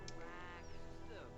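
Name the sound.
chicken sounds from the video game The Sims 4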